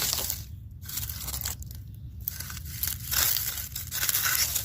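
Pruning snips cut through an old clematis stem with several dry crunching, crushing snaps close by, irregularly spaced over a few seconds with no talk.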